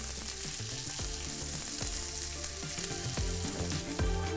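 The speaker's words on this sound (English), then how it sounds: "I'm going to add the onion now." Chopped onion with salt fries in a one-pot chicken and rice dish, giving a steady close sizzle and crackle with occasional clinks and stirring knocks against the pot, no voices.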